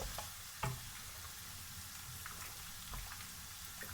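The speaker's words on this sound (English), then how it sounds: "Our pasta is boiling nice and easy." Pasta simmering in a pot of water on the stove beside cooking onions, a steady soft bubbling hiss with a few light clinks, fairly quiet and continuous.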